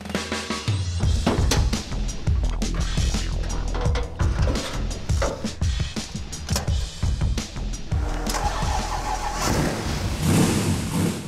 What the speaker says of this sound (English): First fire up in the car.